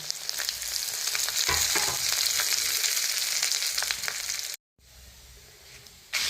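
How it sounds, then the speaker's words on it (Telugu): Dry red chillies frying in oil in a pan, a steady loud sizzle with occasional stirring scrapes, cut by a brief silent gap before a quieter sizzle resumes. "ఇప్పుడు ఒక సగం పావు నూనె వేస్తున్నా ఇప్పుడు ఎండుమిరపకాయలు వేసుకోవాలి"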